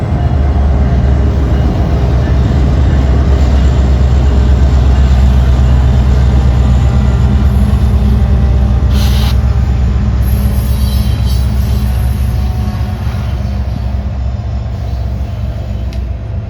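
A freight train led by Delaware & Hudson locomotive NS 1080 rolls by on BNSF's Northern Transcon near Surrey, North Dakota, close and loud, a continuous heavy rumble of wheels with faint squeals, steady for the whole stretch.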